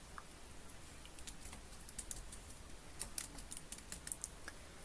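Soft, irregular taps of someone typing a search query on a phone keyboard in a browser, a quiet run of light clicks spread over several seconds with no talking.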